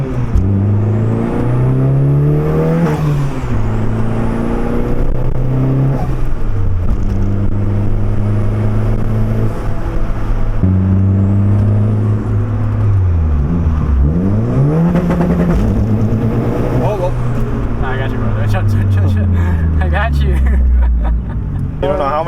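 A Honda Civic Si engine revs up and down repeatedly from inside the car, its pitch climbing and falling through the gears with a raspy exhaust note, loud and continuous for the whole stretch while people talk over it.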